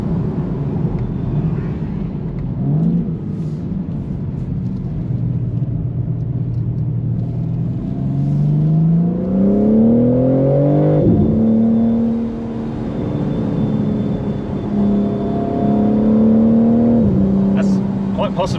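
A BMW G83 M4 Convertible LCI accelerates hard, its engine note climbing through the gears in rising sweeps with shifts in between, heard loud and close from inside the car.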